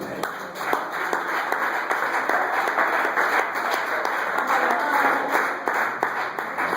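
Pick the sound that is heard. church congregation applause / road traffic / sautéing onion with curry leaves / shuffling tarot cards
church congregation applause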